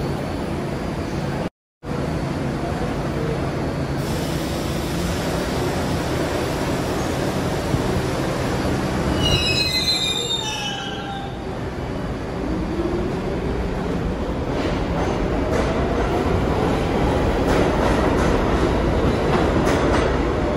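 A subway train runs through a New York station in the South Bronx, a loud steady rumble and rail clatter filling the whole stretch, with a brief high squeal midway and no talking.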